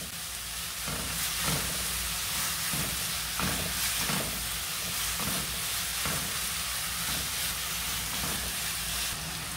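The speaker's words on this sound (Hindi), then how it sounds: "So we're just going to cook the onion until it turns golden brown." About a cup of chopped onion frying in oil in a pan, a steady loud sizzle with periodic scraping stirs throughout.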